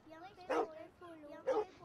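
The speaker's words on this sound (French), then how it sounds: "Quelqu'un peut tuer ce chien qui beugle." Dog barking in the Western video game Red Dead, two loud bursts roughly a second apart with background game audio and ongoing sound between them.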